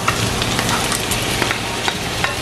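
Marinated pineapple for a spicy curry sizzles loudly in a hot pan, a steady crackling fry broken by scattered scrapes and clicks from stirring.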